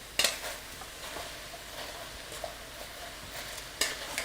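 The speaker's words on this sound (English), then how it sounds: "We are going to stir this down" Winter melon with grated coconut being stirred in a pan: soft scraping and gentle sizzling, with a couple of sharp utensil clinks against the pan at the start and end, fairly quiet and without talk.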